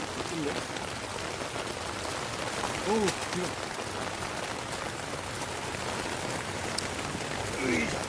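Steady rain patters on a surface all around during tomato picking, a continuous even hiss, with a few brief voices murmuring quietly beneath it.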